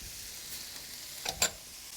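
A spoon briefly scrapes through chopped broccoli and peeled diced carrots cooking in a pan, with two quick scrapes over a low, steady sizzle and no voices.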